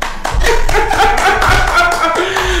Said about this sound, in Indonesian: kita harusnya tepuk tangan boleh Bu ya